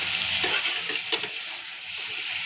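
Chicken pieces fry in hot oil with a loud, steady sizzle, broken by a few brief clinks and scrapes of stirring early on; no voices.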